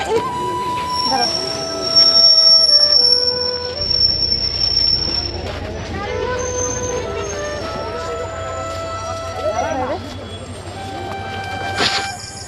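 Train at a station rumbles and hums loudly nearby, with squealing wheels and tonal whines shifting pitch as people talk over it.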